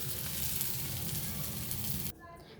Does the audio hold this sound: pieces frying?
yes